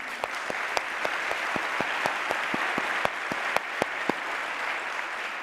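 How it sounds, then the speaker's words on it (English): Conference audience applauding the planning team at an opening session, a steady broad wash of clapping with a few sharper individual claps standing out, moderately near and unbroken throughout. "And I think we need to applaud that team."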